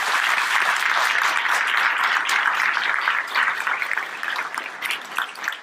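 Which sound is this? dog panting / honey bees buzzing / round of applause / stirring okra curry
round of applause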